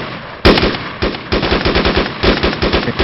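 Rapid fire from firearms during an army section's firing drill in July 2009: loud, close bursts of fast repeated shots that start abruptly and keep going almost without pause.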